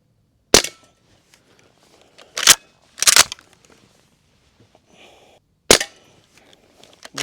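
A Barra 1866 CO2 cowboy rifle fires BBs in four sharp, loud snapping shots spaced a second or more apart, with quiet gaps and faint handling between them.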